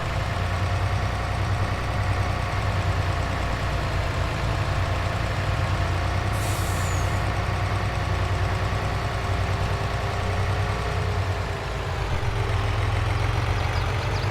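A truck folding up in a farming video game: a steady, loud, mid-to-low engine drone runs throughout, with a brief higher mechanical whine partway through and no talking.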